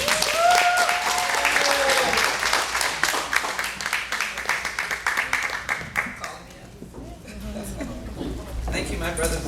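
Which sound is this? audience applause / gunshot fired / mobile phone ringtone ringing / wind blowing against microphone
audience applause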